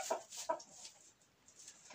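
Young Pushkin breed hens, hatched in June, clucking softly behind netting, two short sharp calls near the start followed by quieter scattered clucks.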